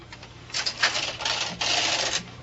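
A BOND knitting machine carriage rattles across the needle bed knitting a row, a loud mechanical clatter in uneven bursts that builds into a steady run near the end, with no voice over it.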